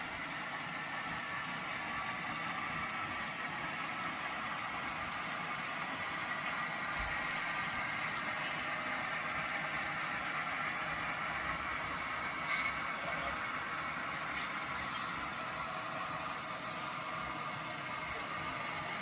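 An HO scale model coal train runs along the main line on a layout, its steady mechanical hum and rumble continuous and fairly loud throughout, with faint clicks and ticks scattered over the top.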